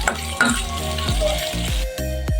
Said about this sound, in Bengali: মাছের মাথা ছিল পরিষ্কার করে নিয়েছি বন্ধুরা দিয়ে দিচ্ছি এটি কষিয়ে নিচ্ছি মশলার মধ্যে ভালো করে